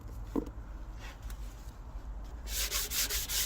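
Old gasket material sanded off a Toyota Previa engine block with 150-grit sandpaper, a soft rubbing that swells into loud, rhythmic back-and-forth strokes in the last second, close up with no talk.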